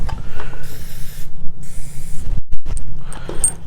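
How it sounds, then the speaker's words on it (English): Several short bursts of spraying from a spray bottle, each a crisp hiss separated by brief pauses, close up and fairly loud. "Spray them down"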